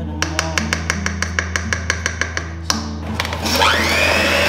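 Electric mixer beating thick red velvet cake batter, starting with a run of regular rhythmic taps and clicks, then rising into a loud steady whirring drone close by, with no talking.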